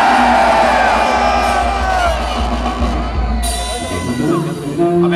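A parade crowd shouts and cheers loudly in a continuous, dense roar, with whoops and bellowed voices overlapping at close range and no pause for the whole stretch.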